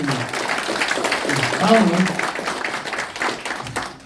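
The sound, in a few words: applause at a press conference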